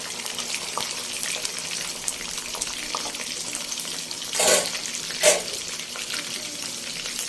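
Two large chopped onions fry in a kadai for mutton pulao, a steady moderate sizzle with two brief louder bursts of stirring or splashing midway, no talking.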